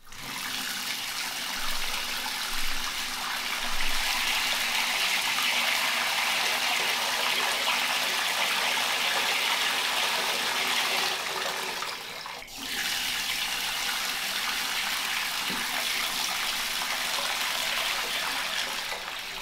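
Water runs and rushes steadily in a continuous broadband wash, briefly interrupted midway before the flow resumes at the same level.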